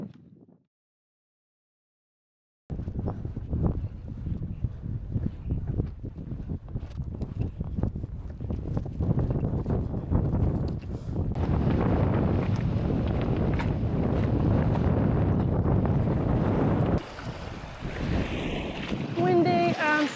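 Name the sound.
wind blowing over a bay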